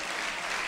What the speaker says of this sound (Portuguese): Enquanto a gente está aplaudindo